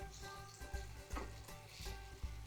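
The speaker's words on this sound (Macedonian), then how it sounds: "Еве што убаво си испржи пиперката и кромидот." Peppers and onion fry in a pan with a constant soft sizzle, broken by a few low thumps and stir sounds, fairly quiet and close with no voices.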